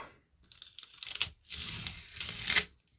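Masking tape being peeled off a Mylar comic book bag, a couple of close crackling rips with brief pauses between pulls, fairly quiet and alone.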